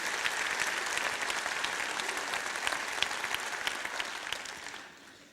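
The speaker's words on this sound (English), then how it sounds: "a huge welcome and round of applause for our girls here this morning" Audience applause at an International Women's Day celebration in Dublin, a dense steady clapping from a crowd that fades out at the end.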